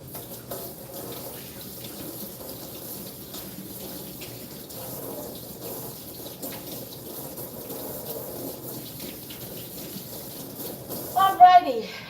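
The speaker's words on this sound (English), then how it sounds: "I'm gonna wash my hands again because I don't like to feel the flour on my hand" Water runs steadily from a kitchen tap as hands are washed of flour, a soft continuous stream with a brief louder gush near the end, while a voice talks quietly underneath.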